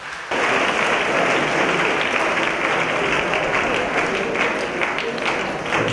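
Sustained applause from a crowd at a church feast celebration in Hamsavaram, East Godavari, welcoming the Vicar General; steady, dense clapping begins abruptly and continues loud throughout.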